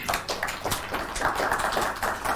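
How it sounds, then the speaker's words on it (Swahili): Audience applause at an evening community forum in Kericho County, a brief burst of scattered claps in a room, fairly close and without talk. "Makofi."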